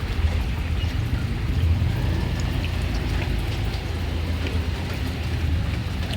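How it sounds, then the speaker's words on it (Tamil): Heavy rain falls steadily on a home, a dense, continuous hiss of drops with no break across the whole stretch. "என்ன ஒன்று, சரியான மழை நண்பர்களே."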